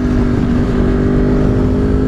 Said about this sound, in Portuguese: Esse caminhão de Itaipava vai descarregar tudo na minha casa